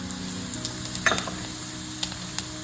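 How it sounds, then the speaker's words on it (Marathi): Cumin and mustard seeds tempering in hot oil for a quick capsicum bhaji, a steady soft sizzle with a few sharp crackles and pops, close by, no talking. "चला तर फोडणी करून घेऊ।"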